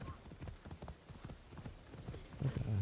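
Rapid rhythmic hoofbeats of a galloping horse in the video game Assassin's Creed Shadows thud steadily, muffled and fairly quiet, with a louder low rumble building near the end.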